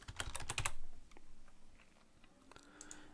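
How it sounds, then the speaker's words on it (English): Quick burst of typing on a computer keyboard, a few close crisp key clicks early on and then scattered lighter taps in a quiet room. "And I'm just going to type in soft."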